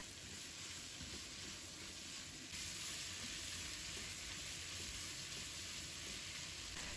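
Purple onion and green and red peppers stir-frying in a wok over high heat, giving a steady loud sizzle that runs the whole time with the crackle of the frying and some stirring. No one talks.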